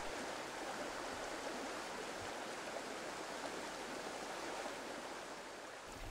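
River Guadalaviar flowing steadily in the Montes Universales, a soft continuous rushing of water with no other sounds.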